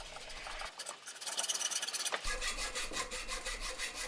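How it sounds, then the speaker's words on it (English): Rhythmic rasping strokes of hand sanding on a wooden pepper grinder, steady and close, with a brief gap before the scraping resumes at an even pace. "Hours of sanding."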